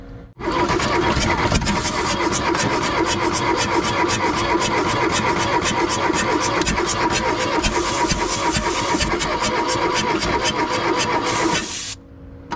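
An old VW diesel engine, unstarted for 25 years, cranks steadily on its starter for about eleven seconds, a loud rapid even churning rhythm that stops abruptly.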